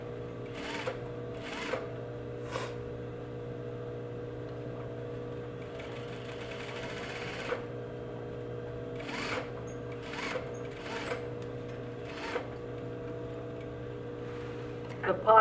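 A single-needle sewing machine runs steadily while stitching a western pocket along the middle of an overlocked edge, with a constant motor whir and short bursts of faster stitching.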